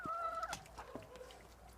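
Chickens of a flighty, poorly integrated foraging breed cluck and squawk close by, with a sharp rising call early on followed by scattered softer clucks and rustling.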